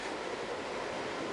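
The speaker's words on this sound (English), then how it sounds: "How's it feel to be riding a train?" Steady broadband rumble and rush inside a moving Washington DC metro subway car, continuous and fairly loud with no break across the short stretch.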